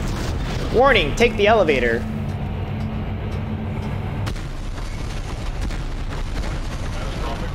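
Explosions in the sci-fi horror video game Dead Space, heard as dull, heavily compressed booms and rumbling that continue behind a synthetic announcement voice.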